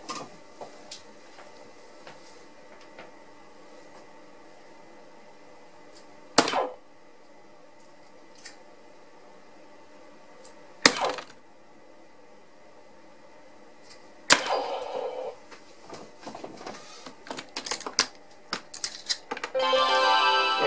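15.5g God Speed Marvelous darts strike a dartboard in three sharp, well-spaced thuds, each alone and crisp, followed by a burst of clattering and rustling near the end.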